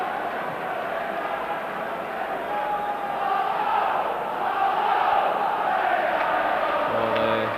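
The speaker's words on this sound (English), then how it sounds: "the Rangers crowd trying to lift the team" A Rangers football crowd roars in the stadium during a Champions League match against Club Brugge, a dense sustained swell of chanting and cheering that rises in the middle, with a commentator's voice faintly under it.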